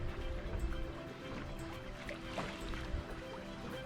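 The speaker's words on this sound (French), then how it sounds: "ça fait 2 heures qu'on navigue sur une mer plate" Sailboat under gennaker and mainsail gliding over a flat sea near small Maldives islands, a soft continuous wash of water against the hull with faint trickles and drips, quiet and steady.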